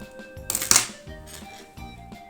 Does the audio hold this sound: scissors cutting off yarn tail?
yes